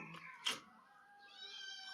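Domestic cat meowing in a home kitchen: a short harmonic meow near the start, then a sharp louder cry, and a drawn-out whining meow toward the end, fairly close with no talk.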